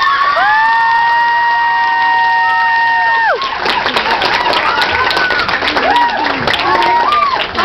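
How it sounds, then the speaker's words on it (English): A crowd cheers and claps loudly after a host calls for applause, with shrill shouts and whoops rising over dense clapping for several seconds, following a sustained tonal sound at the start. "so big round of applause."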